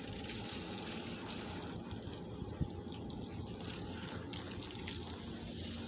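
Steady hissing spray of water runs continuously against the outdoor unit of an air conditioner, a constant rushing wash with no pauses, fairly close.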